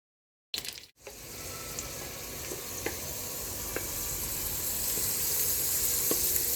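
Potatoes fry in hot oil, a steady hiss that starts abruptly after a brief silence and grows slightly louder, with a few faint clinks of a utensil, close and unaccompanied by talk.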